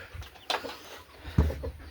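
A chicken gives a short low cluck against steady outdoor background noise, with a faint higher chirp earlier.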